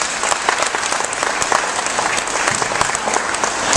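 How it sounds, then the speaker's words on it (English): Sustained applause from a crowd at a Tea Party political rally in Eufaula, dense steady clapping filling the room at close range for the whole stretch, with no speech over it. "you all just applauded each other"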